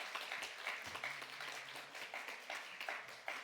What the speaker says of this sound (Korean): 여러분 먼저 박수 한번 하겠습니다.